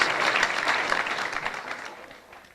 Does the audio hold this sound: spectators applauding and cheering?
yes